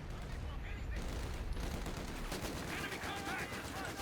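Machine-gun fire in Company of Heroes 2, an MG42 and a Vickers trading bursts on a battlefield. Continuous rattling gunfire runs the whole time over a dense rumbling battle din, and commentary runs underneath it.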